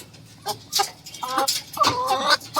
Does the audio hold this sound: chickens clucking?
yes